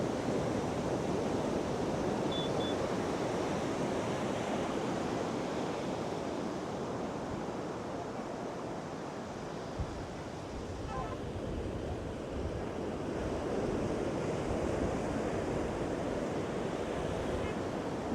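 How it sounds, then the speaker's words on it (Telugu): Ocean waves breaking on the beach at Uppada, a dense, continuous wash of surf with steady wind noise across the microphone and no distinct voices. "చూడండి ఫ్రెండ్స్, కెరటాలు అవి ఎంత బాగా వస్తున్నాయో."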